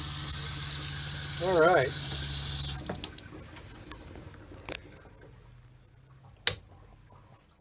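Water runs into an RV sink and drains away, then cuts off, followed by a few sharp clicks and taps in a quiet interior, with someone speaking briefly.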